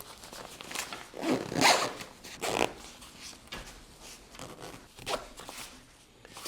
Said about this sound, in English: Then I can zip that up and zip up the compression.